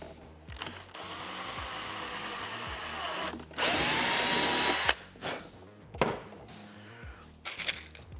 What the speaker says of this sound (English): So I'm going to drill that.